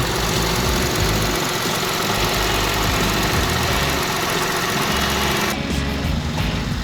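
A dark blue 2017 Mini Cooper 1.5 with about 46,000 km on it idles with a steady, close mechanical hum and light vibration, continuous throughout with a slight drop in brightness near the end.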